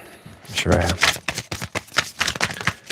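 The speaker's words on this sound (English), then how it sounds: "as I was beginning to shuffle the cards" Tarot cards are shuffled close by in quick papery riffles and taps, mixed in with a person speaking during a live reading.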